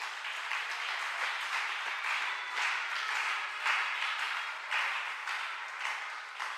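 Congregation applauding in a church service, a dense, steady wash of many hands clapping together with rhythmic surges, continuing without a break.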